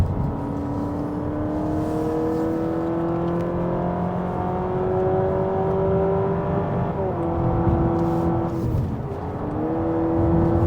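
Honda Civic RS e:HEV hybrid climbing a hill road, a loud, steady engine and motor drone whose pitch rises gradually, drops briefly near the end like a simulated gear change, then climbs again, heard from inside the cabin.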